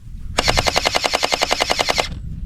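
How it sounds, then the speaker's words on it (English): Gel blaster toy gun firing gel balls in rapid full-auto bursts, a fast even rattle of about twenty shots over under two seconds, loud and close, then stopping abruptly. "it's called a gel blaster. You wanna hear it?"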